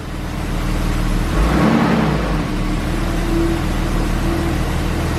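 A 1982 BMW 633CSi E24 engine revs with its wheels spinning after an overhaul, a steady mid-pitched drone that rises briefly then holds, close and loud, no talk.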